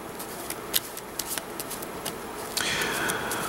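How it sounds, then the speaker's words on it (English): Cards from a DC Comics deck-building game are shuffled by hand at close range, a run of crisp riffling clicks ending in a longer steady rush of card noise. "We've got 3 here, so we are going to need to shuffle."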